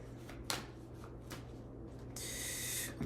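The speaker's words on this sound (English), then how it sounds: "I'm going to shuffle one more time." Tarot cards being shuffled by hand, a few quick riffling bursts and soft rubbing strokes, close and quiet, ending in a longer hissing riffle.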